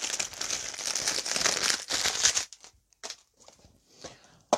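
Strongly adhered sticky tape being peeled and torn off plastic DVD cases, a sustained close crinkling rip for about two seconds, then a few short separate crackles and tugs.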